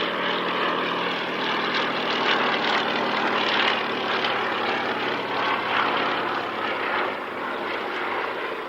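Historic propeller aircraft flying at the 1996 International Air Tattoo at Fairford, a steady broad engine drone filling the whole stretch, moderately loud and unchanging, with no voices.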